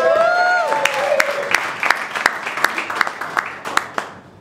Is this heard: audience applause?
yes